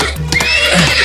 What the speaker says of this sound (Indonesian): Hei, tenang kuda.